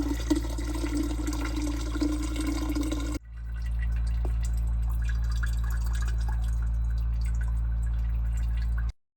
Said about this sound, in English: Then we'll open this up and drain it.